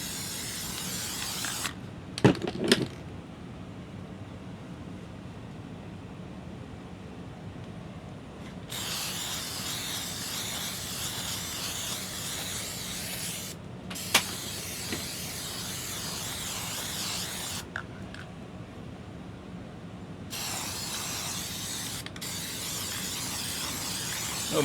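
Spray adhesive hisses onto a tufted gaming rug in several long bursts separated by short pauses, with a few rattling clicks from the can between sprays.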